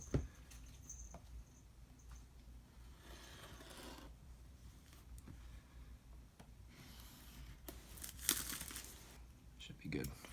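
A knife slices through the plastic and cardboard packaging of an Apple iPad Pro 11-inch box, giving crinkling, tearing and scraping sounds in bursts, with louder rips near the end and a voice speaking at times.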